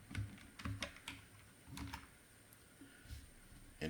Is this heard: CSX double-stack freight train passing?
no